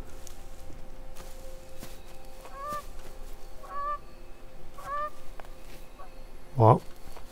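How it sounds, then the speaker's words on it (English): In the video game The Forest, a duck-like bird honks in three spaced calls, moderately distant, followed by a louder, closer honk near the end over steady outdoor ambience. "Is there a duck or something?"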